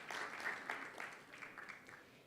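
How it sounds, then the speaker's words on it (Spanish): Faint, distant applause from a conference audience, a brief patter of clapping lasting a couple of seconds and tapering slightly, with no voices on top. "Un aplauso para Matías,"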